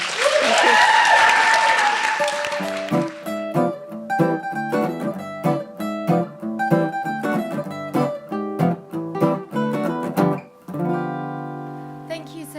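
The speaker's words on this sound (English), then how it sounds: "Big round of applause, please." Applause rises for theatre critics Lyn Gardner and Ava Wong Davies at a live event at VAULT 2019, a burst of clapping at the start that quickly gives way to loud tonal music with rhythmic chords.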